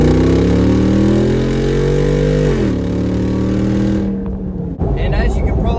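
A Jeep Wrangler 392 V8 rumbles loud and close, its deep engine note holding then dropping as it revs down, with wind noise and a sharp shift near the end.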